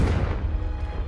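A Confringo blasting spell going off in Hogwarts Legacy, one heavy booming explosion with a deep rumbling tail, loud and close, with no talk.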